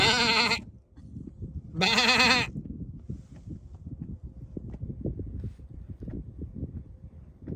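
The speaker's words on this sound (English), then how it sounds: "So we pulled over here because we saw some sheep over there." Two loud, close, wavering bleats come from sheep in an open field by an Icelandic roadside, followed by several seconds of gusty wind noise.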